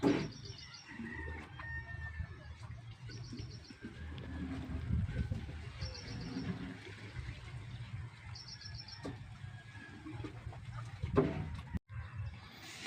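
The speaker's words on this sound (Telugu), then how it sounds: "ఇవి రెండు పుంజులు ఇవి పెట్టలు" Ongole fighting-breed roosters and hens cluck quietly in a yard, with small birds chirping in repeated bursts above them and no talk.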